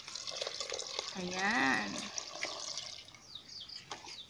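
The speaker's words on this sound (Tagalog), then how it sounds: "ilalagay po natin ang tubig sa bignay or bugnay" Water poured into a container of bugnay wild berries for wine making, a gushing, splashing pour that fills then tapers off, with a voice speaking briefly over it.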